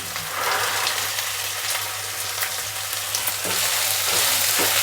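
Fresh field beans, just shelled, tipped into a hot frying pan, hissing in a loud, dense, continuous sizzle that holds steady throughout, with light crackles and no voices.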